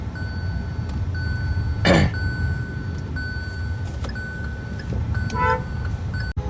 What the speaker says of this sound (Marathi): लईच ट्रॅफिक आहे